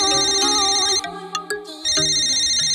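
A phone ringtone plays loudly and close, a bright electronic melody in two bursts separated by a short gap with a couple of clicks.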